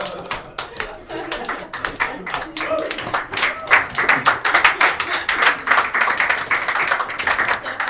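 Audience applause in a comedy club, a burst of clapping with sharp hand claps building to dense, lively applause over several seconds, with some crowd voices mixed in.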